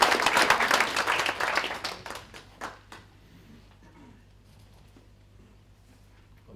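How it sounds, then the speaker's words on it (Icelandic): An audience at an Icelandic conference on coastal heritage sites bursts into brisk clapping that is strong at first, then thins and fades out over a few seconds into near quiet. "Gefum við gott klapp"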